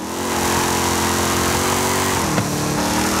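Boosted lowrider car engine in Forza Horizon 5 on an evening city map, a loud, steady droning growl held at high revs throughout, with a slight dip in pitch near the end.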